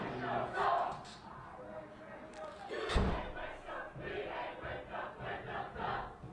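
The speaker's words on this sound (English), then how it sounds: "the Revere crowd is fired up" A crowd at a girls flag football game between Revere and Winthrop, roaring and shouting in waves with a thud near the middle, loud and close, with voices mixed throughout.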